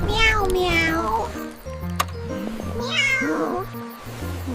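A cat meows in two long, drawn-out calls, the first near the start and the second around the three-second mark, loud and close with no talk over it.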